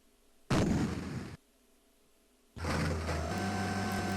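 Bombs explode in The Ninja Warriors on the Atari ST, two loud blasts separated by a brief quiet gap, the second a longer rumbling burst.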